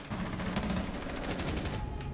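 Rapid gunfire from a multiplayer shooter video game crackles steadily throughout, a quiet continuous burst of shots with no talk over it.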